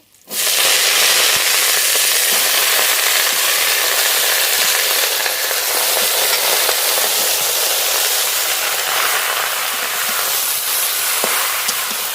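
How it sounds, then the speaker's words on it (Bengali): Loud, dense sizzling of garlic and bottle gourd greens frying in hot oil starts abruptly and continues steadily with crackles throughout, no voices. "রসুনটা একটু ভাজা ভাজা করে নেব কেটে ধুয়ে রাখা লাউ শাক দিয়ে দেবো"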